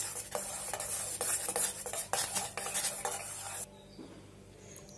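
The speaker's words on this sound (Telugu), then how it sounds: "ఇలా వేసుకున్న తర్వాత ఉంటలు లేకుండా బాగా కలుపుకుందాము" Dairy whitener milk powder being whisked into boiling water in a pan, a quick run of close scraping and clinking stirs over a bubbling hiss that stops abruptly, leaving a quieter simmer.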